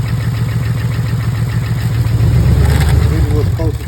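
A car engine runs steadily at idle with its EGR valve unplugged, a low rumbling drone that swells slightly near the end.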